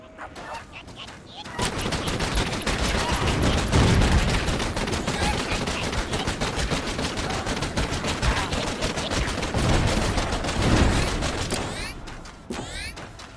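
The Contra gun in Vicious Attack Llama Apocalypse fires a loud, sustained stream of rapid shots for most of the stretch, ending in a few scattered final bursts.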